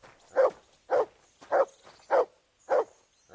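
In Kingdom Come: Deliverance II, a dog barks six times in a steady, evenly spaced rhythm, each bark clear and fairly close against a quiet background.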